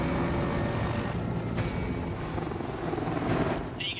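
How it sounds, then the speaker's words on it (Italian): The engines of a large heavy-lift helicopter start up in a windy spot, a loud, steady turbine roar and rumble with a thin high whine running over it, and no voices. "Accendiamo i motori."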